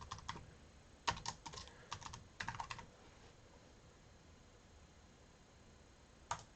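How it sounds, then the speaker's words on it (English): A password typed on a computer keyboard, with short clusters of light, close key taps separated by pauses and a single stray tap near the end over quiet room noise. "I'm going to type in a password"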